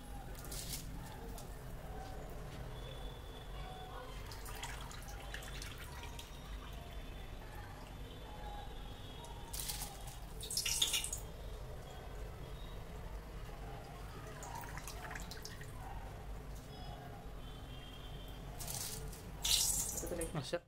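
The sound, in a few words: soaked biryani rice added to boiling water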